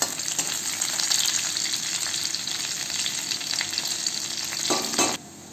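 Fresh ginger and garlic sautéing in a pan with oil, a steady close-up sizzle with stirring scrapes that runs unbroken before cutting off abruptly near the end.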